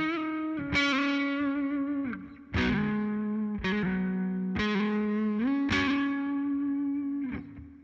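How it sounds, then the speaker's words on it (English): An Epiphone SG Standard 60's Maestro electric guitar plays distorted, effects-laden chords with Maestro tremolo flutter, several ringing strums wavering and dipping in pitch, loud and close with no talk. "It's more floating, which means you can do some cool flutter effects like you could on a Floyd Rose."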